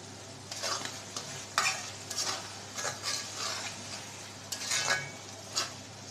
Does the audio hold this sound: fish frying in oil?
yes